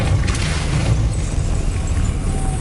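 A Depulso spell cast in a video game bursts out as a loud, forceful boom with a rushing, crashing impact. Heavy low rumble carries on for a couple of seconds with no talking.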